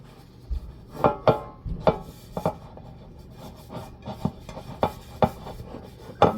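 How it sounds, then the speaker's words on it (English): Lard being spread over a metal baking pan for bread, heard as close, uneven rubbing and scraping strokes in short bursts, with no talking. "I'm gonna take our lard and I'm going to grease the pan"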